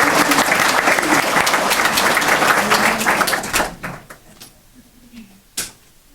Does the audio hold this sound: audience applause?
yes